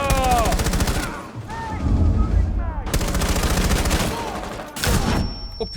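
Rapid automatic gunfire from the Rainbow Six Siege beta game, loud, dense bursts close by, broken by short pauses, with a player's excited voice talking over it.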